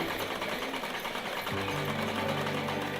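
A sewing machine stitching at a women's tailoring class runs in a continuous close mechanical whir, and its motor steadies into a smooth hum partway through.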